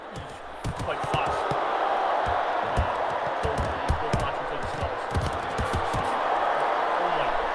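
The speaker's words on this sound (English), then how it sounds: "Crowd's going wild." A crowd roars continuously at a bout in the VR boxing game Thrill of the Fight 2, a steady loud cheering wash with thudding punches and footfalls underneath while a commentator talks throughout.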